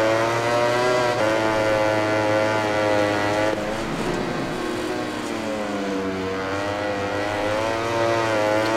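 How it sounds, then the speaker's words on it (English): Ducati GP20 MotoGP bike engine in the MotoGP 20 racing game, a loud sustained high-revving whine with rising and falling harmonics through gear changes, heard alone with no talking. "Oh, listen to that bike."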